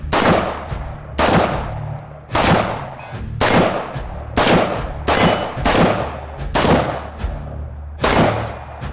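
Rifle shots ring out at a shooting range, about nine sharp, loud reports fired at a steady pace a second or so apart, each followed by a brief ringing decay.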